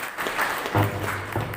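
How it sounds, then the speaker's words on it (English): A brief burst of applause for students and teachers at a school World Environment Day event, a short cluster of hands clapping with a faint voice or hum underneath. "You really deserve a good clap for this marathon effort that you made."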